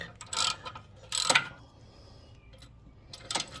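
A hand ratchet clicks in short bursts, tightening bolts on the flexplate of a 2009-on Hyundai Genesis 3.8L engine, three close clattering strokes with quiet gaps.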